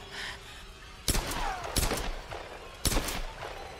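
Gunfire in the Tomb Raider video game: three sharp, loud shots or short bursts spaced unevenly over a few seconds, standing out clearly against a quiet background.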